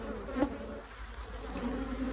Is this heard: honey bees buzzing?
yes